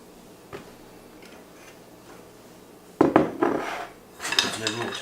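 Chicken wings are tossed in hot wing sauce in a bowl, starting with a quiet clink, then two bursts of wet rattling and clattering against the bowl, with no talk.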